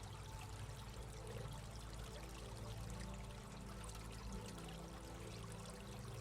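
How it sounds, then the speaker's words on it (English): Steady flowing water pours and trickles continuously at close range, a dense unbroken wash of sound with no pauses. "The sound of water is close now, very close."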